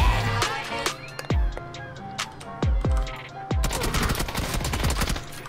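PUBG gunfire: a burst of sharp shots with booming low impacts, several heavy single reports spaced through the middle, then rapid dense firing near the end, loud and close, with faint game sounds between.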